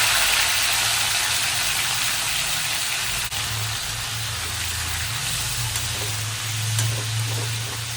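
Paneer fries lightly in hot oil, giving a continuous hissing sizzle that holds steady throughout, close and moderately loud, with a low hum underneath.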